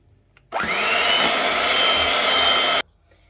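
An electric mixer whips cream in one continuous, loud, steady whir that starts abruptly, runs for about two seconds and then cuts off sharply.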